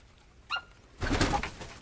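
Leghorn chickens in a flock of thirteen give short vocal calls: a brief faint call near the half-second mark, then a louder, busier burst of clucking and calling over the last second.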